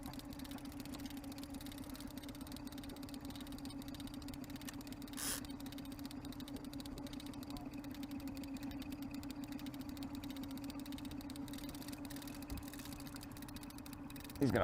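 A boat engine hums with a low, steady drone and a fine mechanical rattle, a constant idling purr that barely changes over time.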